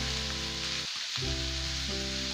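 Vegetable noodles cook in a hot pan with a steady, close sizzle. A sustained tonal hum runs underneath and dips briefly partway through.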